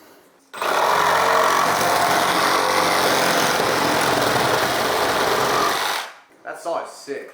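Cordless power saw cutting through a wall during kitchen demolition, a steady loud buzzing whine lasting about five seconds, close by, then stopping abruptly, followed by brief soft voices.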